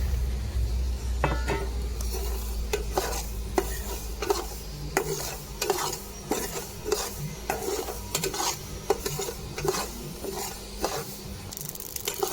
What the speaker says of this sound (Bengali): এবার আমি সর্ষে কটা হালকা ভেজে নেব।